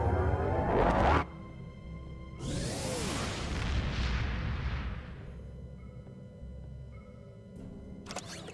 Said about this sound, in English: Well, we've got this photon torpedo.